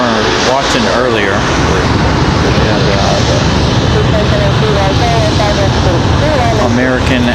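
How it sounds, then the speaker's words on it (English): An Airbus A220 airliner taking off at Raleigh-Durham airport produces a loud, continuous engine roar that fills the whole stretch without fading. "So the A220 going to make its way up."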